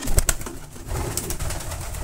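White pigeons coo inside a loft, soft low calls mixed with scuffling and a few sharp clicks close by.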